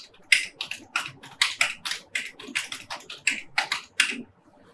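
Quick bursts of keystrokes on a computer keyboard as names and ages are entered into an Excel sheet, a close, crisp, uneven clatter with short pauses and no talking.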